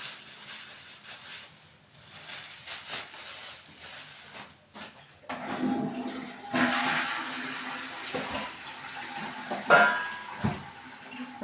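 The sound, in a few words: water running while washing used hair-dye items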